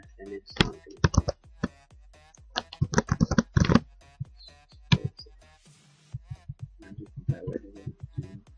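Rapid clacking keystrokes on a computer keyboard, close and fairly loud, coming in bursts with short pauses and a few heavier key presses.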